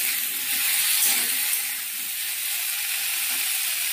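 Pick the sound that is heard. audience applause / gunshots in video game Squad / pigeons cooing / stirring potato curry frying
stirring potato curry frying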